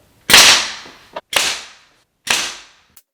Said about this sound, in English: I'm going to take a brad nailer and I'm going to put a nail right through the jamb.